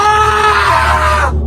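A man lets out a loud, sustained scream of terror that holds steady for over a second before cutting off abruptly.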